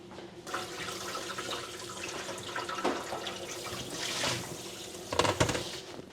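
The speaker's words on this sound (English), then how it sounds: "Now I've already washed the pepper, but I'm gonna rinse it off and get these seeds out of it." Kitchen tap running as a bell pepper is rinsed under it, a continuous close rush of water with bursts of splashing as the pepper moves through the stream.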